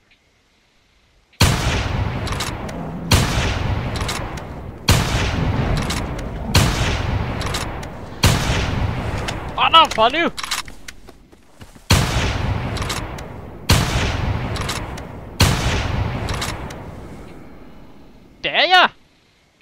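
Repeated gunshots in The Hunter: Primal, a dinosaur-hunting game, during a triceratops hunt: eight loud, sharp blasts with booming tails at roughly two-second intervals, while someone talks excitedly between the shots.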